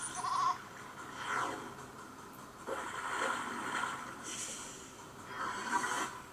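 A goat bleats in a video game, a few drawn-out calls spread across the stretch over light ambient background noise, with no talking.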